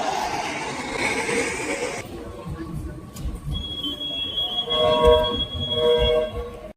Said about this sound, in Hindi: ये हम आ गए गैंगब्योंग सबवे स्टेशन और ये है भाई मेट्रो, जिसको ये लोग सबवे बोलते हैं